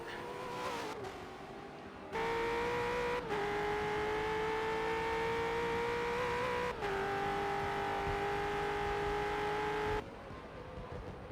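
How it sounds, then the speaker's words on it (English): Race car engine roaring during a V8 sim racing game at Sebring, a loud steady drone with sustained harmonics that rises in pitch across several gear changes, briefly dropping between shifts. "Listen to that engine roar."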